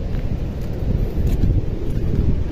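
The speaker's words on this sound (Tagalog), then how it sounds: "at sarap ng hangin dito sa dagat" Steady wind gusting along a seashore at sunset after a storm, a constant loud low rumble of air buffeting the microphone with no voices over it.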